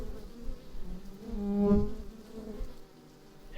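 Honey bees being drummed out of a skep hive give a close, steady buzzing hum that swells in the middle and fades toward the end, with no talking.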